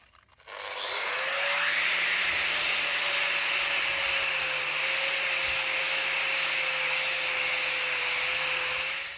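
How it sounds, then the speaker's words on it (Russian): An angle grinder with a flap disc spins up and sands a steel profile tube steadily, a sustained high whine with a gritty abrasive hiss, loud and close throughout. "И приступаем к шлифовке профильной трубы."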